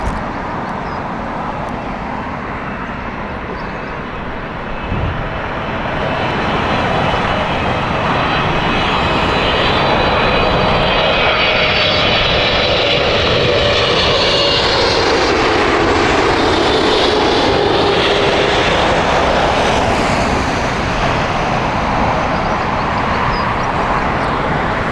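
A jet airliner operating the LAX service at Heathrow Airport roars past, its engine noise swelling from a distant rumble into a loud, sustained sweeping whine that stays strong to the end.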